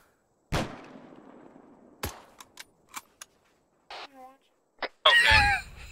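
Sharp gunfire bangs during indirect fire training crack out one after another, a loud first shot with a long decaying tail followed by several shorter reports, then a cough-like burst and a loud noisy blast at the end.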